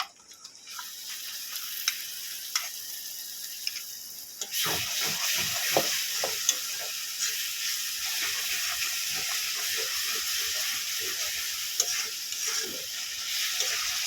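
Masala of turmeric, ginger-garlic and tomato paste is sautéed for a chicken and potato curry. A quiet start gives way to a loud sustained sizzle with frequent scraping and clattering spoon strokes close by, no voices.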